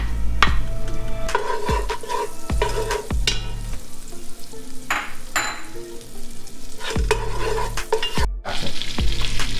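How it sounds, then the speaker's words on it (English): Butter sizzles and fries in a big hot pot for sukiyaki, a steady crackle broken by repeated stirring scrapes and clanks against the pot, close and fairly loud. "Now I'm putting in about 3 tablespoons of butter."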